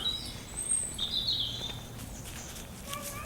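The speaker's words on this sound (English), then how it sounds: "Lovely to hear the birds." Birds call and chirp in autumn woodland, with a few high, thin notes that come and go at moderate distance over a soft outdoor background.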